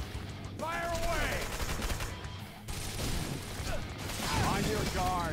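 Gunfire in the action video game Wanted: Dead comes in repeated bursts with mechanical clatter, mixed with game character voices shouting over the shooting throughout.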